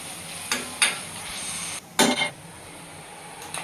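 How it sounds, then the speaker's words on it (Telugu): Onions frying in oil in a pan for fish curry, a constant close sizzle broken by a few scraping stirs and clinks of a spoon against the metal pan. "ఉల్లిపాయలు పచ్చి వాసన పోయే వరకు ఫ్రై చేసుకోవాలండి, గోల్డ్ కలర్ వచ్చే వరకు"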